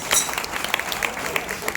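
An audience at a stage performance of folk songs gives a short burst of clapping, with scattered claps standing out over a low murmur of voices.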